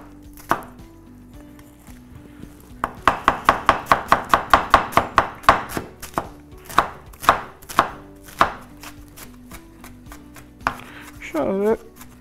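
Onions being chopped with a knife on a cutting board while making İmam Bayıldı: a fast run of sharp, close, evenly spaced knife strikes, with sparser chops before and after.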